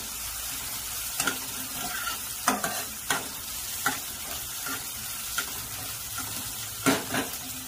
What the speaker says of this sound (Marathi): इकडे कांदा पण चांगला परतून घेतोय